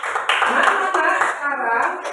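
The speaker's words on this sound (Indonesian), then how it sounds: "Berikan tepuk tangan untuk kelompok 3 yang dibagi oleh Aulia." Classroom students applauding a group, a dense continuous burst of many hands clapping together, loud and close, with some voices mixed in.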